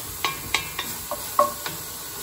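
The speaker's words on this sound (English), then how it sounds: "So we're gonna keep sauteing this." Lentil and mushroom bolognese vegetables with red pepper sauté in a pan. A spoon clatters against the pan in about six sharp, irregular taps over a quiet, low sizzle, with no talking.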